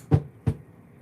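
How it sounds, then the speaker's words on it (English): A dog barks twice, close and fairly loud, two short sharp bursts about a third of a second apart, followed by quiet. "Sorry about that barking."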